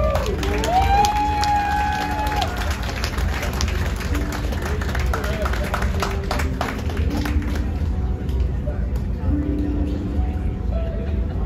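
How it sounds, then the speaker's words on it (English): Crowd cheering and clapping at a Captain's Circle party aboard the cruise ship Grand Princess, loud and sustained under a voice speaking over a microphone, fading slightly toward the end. "Give him a massive round of applause."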